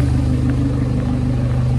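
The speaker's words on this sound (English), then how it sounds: "See there's a big lorry behind me." A big lorry rumbles along Marylebone High Street in London, a continuous low engine drone with steady traffic noise, close and loud.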